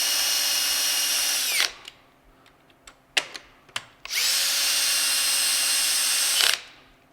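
A power drill tightens a bolt on a Surron electric dirt bike during an ASI BAC4000/BAC8000 power kit install: two long, loud, steady whirring bursts, separated by a pause with small clicks and taps.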